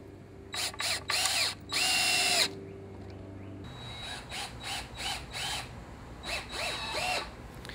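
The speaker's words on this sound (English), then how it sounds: "Then you take 3-inch screws and you screw in on the outer holes" A power drill drives 3-inch screws into 2x4s on sawhorses while building a potting bench, with several short whirring bursts, then a steadier stretch of uneven, grinding driving with brief pauses.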